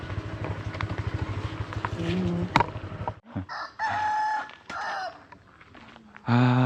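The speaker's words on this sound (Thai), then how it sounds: "เสียงไก่ขัน" A rooster crows in a rural Lao village, its long clear call rising over nearby engine hum and ambient noise, followed by more scattered crowing and clucking.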